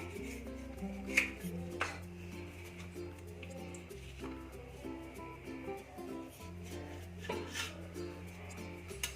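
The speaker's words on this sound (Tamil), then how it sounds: "ஸோ எனக்கு இப்போ வேணுன்ற அளவுக்கு நான் கட் பண்ணிக்கிறேன்" Knife cutting a warm samosa pastry sheet into squares, with soft repeated taps and scrapes against the board, faint and close, over a low background hum.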